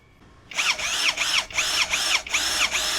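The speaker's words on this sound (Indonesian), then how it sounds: "Mata bor 8 mili, mode drilling, speed 2." A Gtools GT34+ cordless impact drill in drilling mode at speed 2 bores with an 8 mm bit, a loud close high whine that swells and dips in repeated pulses as pressure is applied, starting after a brief quiet moment.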